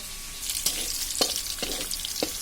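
Spiced chicken with onion, bay leaf, and green and dried chilli sizzles in a wok as a steady hiss, broken by several sharp stirring scrapes at irregular intervals, with no talk.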